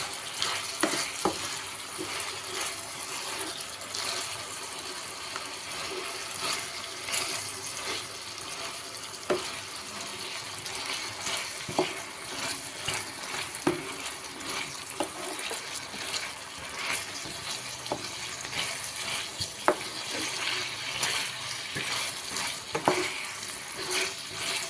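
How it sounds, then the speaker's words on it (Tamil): Potatoes fry in oil with a steady, crackling sizzle, continuous and close, dotted with sharper pops and the occasional stir, with no talking. "உருளைக்கிழங்கு பார்த்திங்கன்னா நல்லா அந்த எண்ணெயிலேயே வறுக்கணும்."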